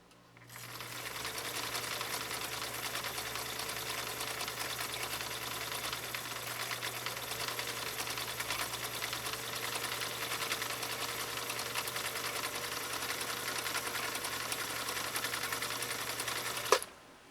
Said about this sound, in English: now we're going to sew off this final stitch on cam A